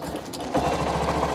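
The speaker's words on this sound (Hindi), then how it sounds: "अब हम इस बाइक को स्टार्ट करते हैं" Honda Shine BS6 motorcycle being electric self-started, a steady close mechanical whir and grind from the starter that thickens partway through as the engine catches and runs on.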